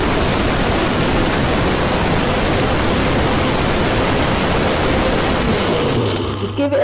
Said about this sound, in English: So now what I'm gonna do is press the Nutribullet down.